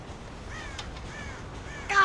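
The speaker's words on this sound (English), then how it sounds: "God damn crows!" Crows caw in the Red Dead Redemption video game on a farm near a corn silo, three or four short harsh calls at moderate distance over a steady outdoor ambience, ending in a sharper burst.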